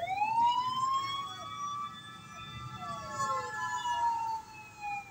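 Emergency siren wailing outdoors, a loud rising-and-falling tone sweeping steadily for several seconds over low traffic rumble, with no voices.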